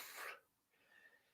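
A single sharp sneeze bursts out near and loud at the start, then fades into quiet room tone with faint murmuring.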